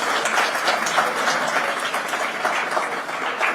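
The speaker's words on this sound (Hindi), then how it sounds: "महिलाओं के सम्मान में एक बार हमें ताली बजाना चाहिए" An audience applauds in honour of the women at a live political stage event, a dense, sustained, fairly loud clapping with no voices over it.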